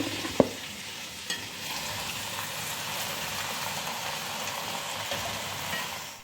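Chicken fries in a pan until light golden brown, giving a steady close sizzle with one or two sharp clinks early on and no talk over it.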